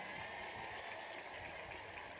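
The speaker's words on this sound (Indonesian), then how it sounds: "Tepuk tangan tuh Bu Atun." A crowd at a religious sermon gathering claps hands, heard as a faint, continuous wash of overlapping claps with no clear individual beats.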